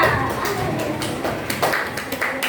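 Children clap their hands together in a classroom, a quick patter of overlapping claps at close range that holds steady throughout, with faint voices underneath.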